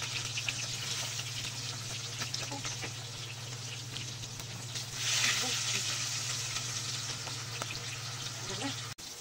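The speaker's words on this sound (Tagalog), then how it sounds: "magprito na tayo. Gamitan na natin ng used oil yan. Isalang na natin." Milkfish (bangus) frying in used oil, a steady loud sizzle and crackle that swells briefly midway, with a constant low hum underneath.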